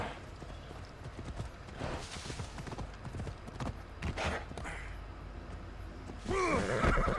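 Rapid hoofbeats of a galloping horse in Assassin's Creed Odyssey pound steadily and close, ending with a louder rush and a snort-like whoosh.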